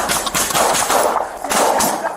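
Police officers fire a rapid burst of several loud, close gunshots at an armed suspect during a tense confrontation. The sharp cracks come in quick succession with no talk over them.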